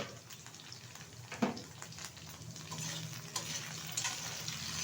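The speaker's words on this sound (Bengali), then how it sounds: "তো এখন একটু বেশ কিছুক্ষণ নাড়াচাড়া করে কুঁদরি আলুটা ভেজে নেব।" Ivy gourd and potatoes fry in a pan with a steady close sizzle, broken by occasional scraping knocks from stirring; no one speaks.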